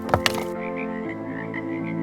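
Frogs croaking at a pond: two quick sharp croaks up front, then a sustained, pulsing chorus of warbling calls over a steady tonal background, no talking.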